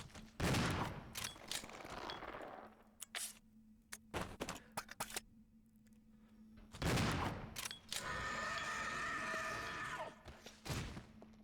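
Gunfire in Resident Evil 0 HD: loud bursts of rapid shots and single heavy blasts, mixed with thuds and creature groans, dense at first then breaking into scattered shots and a final roaring stretch.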